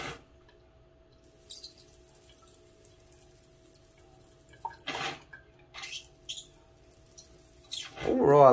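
A hand-operated Redsack portable bidet releases water in a few short hissing spurts separated by quiet gaps, ending in a louder, rising gush nearby.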